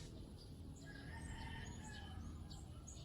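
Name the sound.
birds in the Philippines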